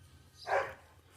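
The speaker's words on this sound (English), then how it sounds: "So if y'all could hear him barking, that's what he's doing." A single faint bark from a dog chasing a squirrel somewhere off at a distance, short and isolated against a quiet background.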